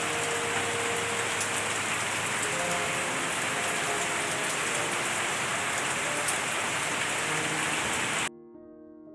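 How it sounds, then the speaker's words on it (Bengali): Steady, heavy rain pours down without pause, a dense hiss of drops on surfaces that cuts off abruptly near the end. "দেখতেই পাচ্ছ বৃষ্টি এসে গেছে"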